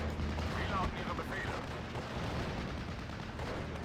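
Artillery fire in the WWII strategy game Steel Division: Normandy 44, at the Normandy battle around Pegasus Bridge: rumbling, overlapping booms and distant gunfire under a fairly quiet battlefield din, with some softer whistling mid-clip.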